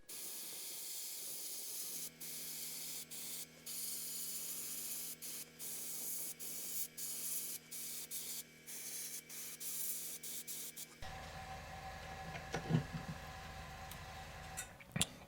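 An airbrush sprays red paint onto the mouth of an old fishing lure being restored, a steady close hiss broken by short pauses and a quieter, scratchier stretch near the end.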